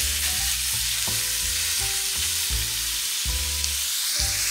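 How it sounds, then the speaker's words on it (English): Ground beef frying in a pan with garlic and onion, steady loud sizzle throughout with repeated scraping strokes as the meat is broken up and stirred. "You want to break up your ground beef and make sure that is well combined with your garlic and onion."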